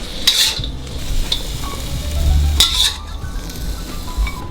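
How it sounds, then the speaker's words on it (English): Food stir-fried in a hot pan while cooking sticky rice: steady sizzle with intermittent scraping and clinking of a utensil against the pan, close and alone. "We only wanted to stir fry that for about 2 minutes."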